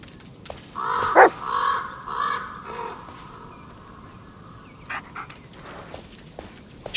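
Dog in the 2019 Blair Witch game, a few sharp barks and whines close by, followed by quieter scattered sounds in a dark forest ambience.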